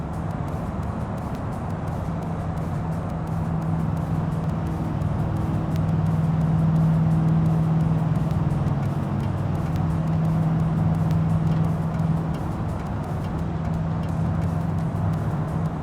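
A heavy-duty hauler truck loaded with added weight drives in BeamNG, a steady low engine drone with a sustained humming tone that swells slightly in the middle, alone without talk.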